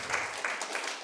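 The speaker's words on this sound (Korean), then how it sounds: "賛美を捧げてくださったユースの皆さんに拍手を捧げましょ" A church congregation applauds the youth choir at a family camp closing service, a short burst of soft, fairly distant clapping.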